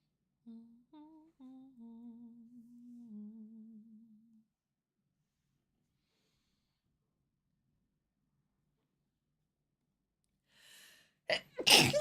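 A faint hummed tune fades into silence, then a single sharp sneeze bursts out near the end, loud and close.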